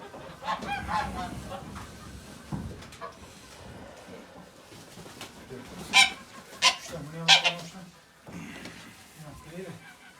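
Geese honk in several loud bursts amid scattered background chatter on a farm, with someone talking nearby between the calls.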